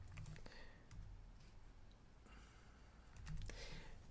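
Lyrics being typed on a computer keyboard in music notation software, with scattered soft key clicks and a few louder presses near the end, quiet and close over a low room hum.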